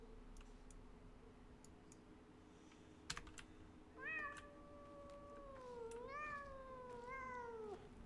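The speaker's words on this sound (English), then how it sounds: "Sounds like the cat's right there." A cat in a game meows several times in the second half, clear drawn-out cries close by, after a few light ticking and tapping sounds over a quiet hum.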